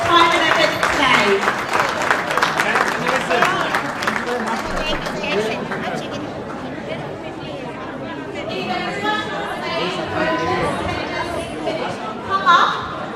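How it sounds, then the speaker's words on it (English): A banquet audience claps for a volunteer, loudest at the start and then fading into crowd chatter and talk, with a brief swell of clapping again near the end. "A huge round of applause for Jason tonight as he did volunteer his time and effort today."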